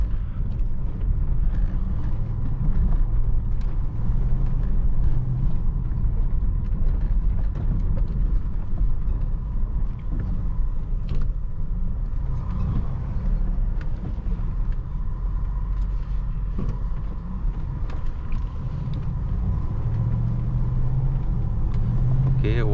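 An off-road vehicle drives along with a steady, loud engine and road rumble that continues throughout, the drone rising slightly near the end, with no clear talk over it.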